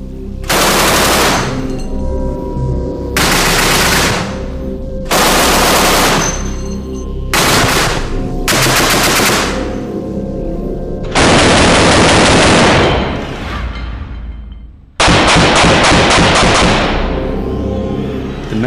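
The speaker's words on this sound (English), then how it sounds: "Shoehorned into the Messerschmitt's tiny wings was this, the terrifying 20mm cannon." A Messerschmitt 20mm cannon fires long, loud bursts into a simulated Spitfire aluminum wing, with rapid rattling volleys separated by short pauses and no talk.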